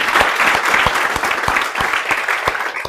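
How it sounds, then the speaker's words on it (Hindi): Students in a law lecture room clap together in a brisk, dense burst of applause with sharp individual claps standing out, close and loud for a few seconds. "चलो एक बार जोरदार तालियां आप सब लोगों के लिए।"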